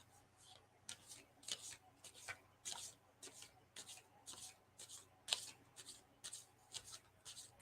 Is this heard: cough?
no